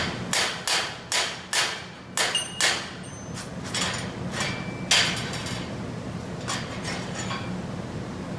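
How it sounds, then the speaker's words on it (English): Slag hammer smacking slag off a fresh weld: a quick series of sharp metallic taps in a steady rhythm, close and loud, followed by lighter scattered knocks and chipping over a noisy background. "So you use what's called a slag hammer, and you just smack at it"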